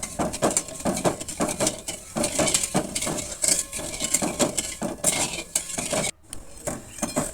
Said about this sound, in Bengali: 2 কাপ জল দিয়ে আমি গ্যাসটা জ্বালিয়ে নাড়াচাড়া করে আমি একটা শিরা তৈরি করব।